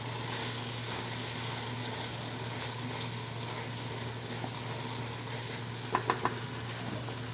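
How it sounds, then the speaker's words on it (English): Garlic and onions sizzle softly and steadily in a pot, with a few light clinks of a utensil stirring near the end. "we are going to add the garlic to the onions and stir that around"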